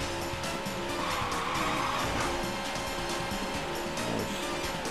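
Car tyres sliding and squealing in the Daytona USA arcade racer, a continuous screech over a steady roaring engine that wavers as the car slides through a tricky section.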